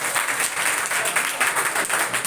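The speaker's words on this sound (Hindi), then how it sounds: "अब मेरा मन तो करता है ताली बजाने का।" Hand clapping in a chemistry classroom, a steady burst of rapid claps lasting a couple of seconds at moderate loudness.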